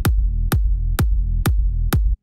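A psytrance bass processed with EQ, OTT compression and a stereo widener plays as five evenly spaced, punchy hits about half a second apart, each with a sharp attack and a deep, sustained low tail, loud and alone.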